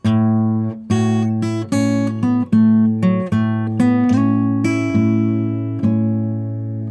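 Measures 10 and 11 of a blues song ring out on guitar, about nine distinctly plucked notes and strums with a slide toward the end, near and solo.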